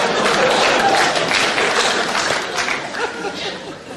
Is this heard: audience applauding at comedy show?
yes